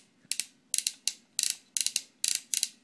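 Plastic ratcheting leg and knee joints on a Weaponizer Prime action figure click in quick bursts of two or three sharp ratchets, close and crisp, repeated several times without talk.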